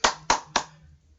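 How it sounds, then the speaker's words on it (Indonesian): Three quick, sharp hand claps ring out close and loud in an even rhythm, each fading quickly before the next. "ya tepuk tangan dulu, tepuki dulu."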